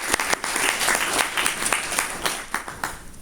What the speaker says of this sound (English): join me in a round of applause to welcome him.